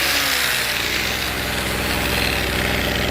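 A Harbor Freight Tailgator generator engine runs steadily at idle, a loud, close, continuous mechanical drone with an even rumble and no voices over it.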